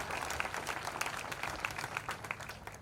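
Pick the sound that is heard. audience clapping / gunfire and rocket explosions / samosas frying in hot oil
audience clapping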